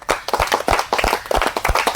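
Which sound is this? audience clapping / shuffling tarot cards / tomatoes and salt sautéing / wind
audience clapping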